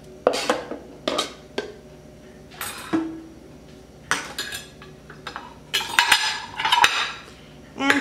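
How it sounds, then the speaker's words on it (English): Pork being placed into a crock pot during home cooking, with scattered clinks and scrapes of meat and utensils against the pot, louder clustered knocks near the end, no talking. "So now I'll place this in the crock pot."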